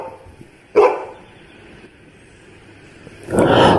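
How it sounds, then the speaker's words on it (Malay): A dog barks twice, a sharp loud bark followed after a pause by a longer, fuller one, over a steady noisy background. "seekor anjing menyalak."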